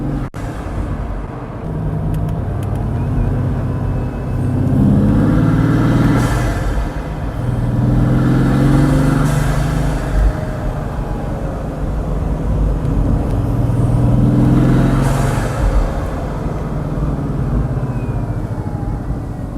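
A Bugatti's quad-turbo 16-cylinder engine gives a loud, steady roar with deep rumbling swells that rise and fall every few seconds, continuous throughout with no voices.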